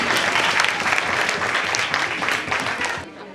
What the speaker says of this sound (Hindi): तो ये पैनल्स ने देखा इसको, जोरदार तालियां हो जाए अभिषेक।